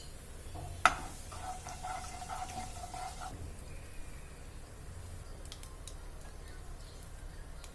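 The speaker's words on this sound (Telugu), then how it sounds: "దీనిలో ఒక 1/2 స్పూన్ జీలకర్రను కూడా వేసి ఫ్రై చేసుకోవాలి." Half a spoon of cumin seeds frying in hot oil in a pan, a quiet, steady sizzle with a single sharp tap of a utensil early on.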